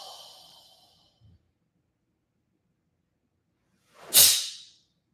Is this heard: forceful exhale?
yes